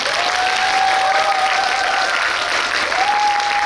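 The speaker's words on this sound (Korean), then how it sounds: "정말 응원의 박수를 보내주시고" An audience in a Megabox cinema hall at COEX claps during a film talk event for the Korean movie Exorcism Chronicles, dense sustained applause filling the room evenly, with a faint tone above it.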